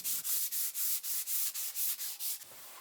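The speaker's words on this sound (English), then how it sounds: "give it a light sanding with some 220 grit paper" Light hand sanding with 220 grit paper on a finished solid maple workbench top, a regular back-and-forth rasp of about a dozen even strokes, close and clear, then a pause.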